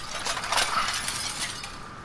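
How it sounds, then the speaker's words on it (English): Glass breaking in Detroit: Become Human, a brief bright shatter with tinkling shards fading out, fairly faint and with no talk. "Break the glass."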